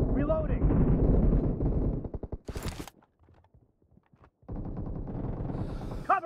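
Rapid bursts of gunfire from a PUBG Mobile team deathmatch on an iPhone 7, loud and close at first, then tapering into a few scattered shots, a lull and more firing, with voices mixed in.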